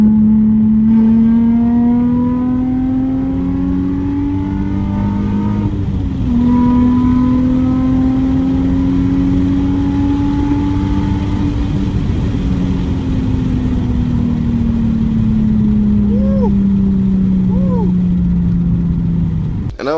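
Nissan 350Z sports car engine pulling under acceleration, a close, steady drone that climbs and eases back in pitch over a continuous road roar.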